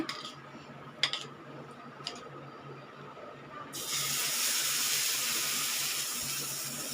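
Lentil uttapam batter poured onto a hot griddle gives a sudden steady sizzling hiss that starts partway through and holds loud to the end, after a few faint clicks, with no talk.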